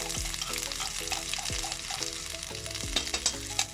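Garlic and ginger paste fries in a pan, making a steady bright sizzle, with the dull scrape and knock of stirring in a regular rhythm underneath and no voices.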